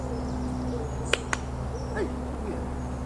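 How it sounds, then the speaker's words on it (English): A bird calling in short faint notes at a distance over a low steady hum of night insects, with two sharp clicks in between. "Bird."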